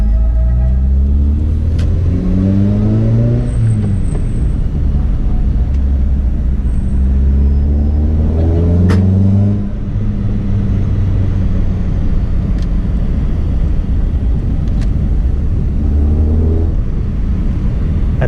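Toyota Corolla AE111 engine induction noise heard from the driver's seat on a road drive, a loud steady rumble with several rising revving sweeps as the car accelerates through the gears, plus occasional faint clicks and tones.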